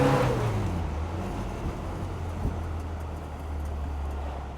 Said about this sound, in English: here's the second gear start from a slight roll at walking speed